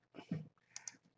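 A few soft mouse clicks on a Save button, close and quiet, with a couple of sharper clicks near the end.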